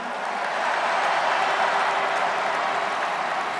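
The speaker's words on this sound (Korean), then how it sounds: "최승 동지에게도 뜨거운 박수 보내주십시오" Audience at a Democratic Party presidential primary convention applauding, a dense steady wash of clapping from a large crowd, moderately distant and sustained throughout, with no talk over it.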